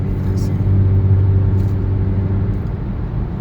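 A 2018 or later Kia Stinger fitted with a sub-frame collar kit drives on a road, its engine a steady, close, loud low drone with tyre and cabin rumble throughout.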